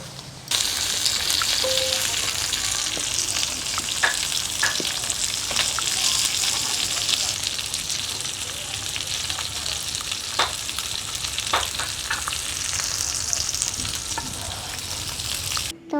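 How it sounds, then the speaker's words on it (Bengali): Chopped jute leaves with garlic frying in hot oil in a wok over a village stove, a steady close sizzle with occasional clicks and scrapes of stirring, no voices. "আর এখন পাট শাক ভাজা হবে তাই দিয়ে দিচ্ছি রসুন"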